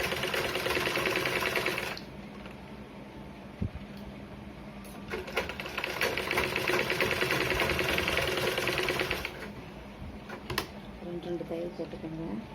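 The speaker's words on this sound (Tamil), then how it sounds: "தையல் போட்டுருங்க." Sewing machine stitching a folded line on a blouse front, running in two sustained bursts of steady mechanical whirring with a pause between, loud and close, with a voice speaking during the gap.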